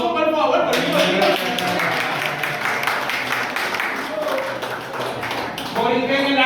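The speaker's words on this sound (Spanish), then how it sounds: "Un aplauso por favor" An audience applauds with a dense patter of clapping under someone speaking Spanish, who talks over it and then continues as the clapping fades, at an event about making cassava bread.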